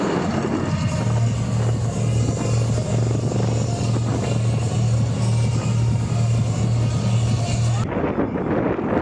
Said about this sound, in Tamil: உள்நாட்டிலேயே தயாரிக்கப்பட்ட இலகு ரக சாரங் ஹெலிகாப்டர்கள் செங்குத்தாகவும் எதிரெதிரே மிக நெருக்கமாகவும் பறந்தும் பயிற்சியில் ஈடுபட்டன.